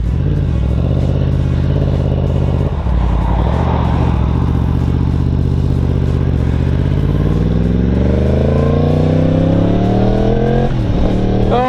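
A 2018 Yamaha MT-10 (FZ-10) motorcycle fitted with a Pipe Werx exhaust idles loudly and close, then revs hard with rising, climbing harmonics near the end, alone without talk.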